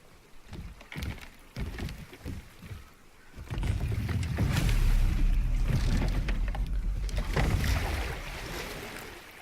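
Wooden creaks and knocks of a rowboat, then a swelling wash of splashing water as oars pull through it, loud and continuous, from the video game God of War, towing a tree trunk.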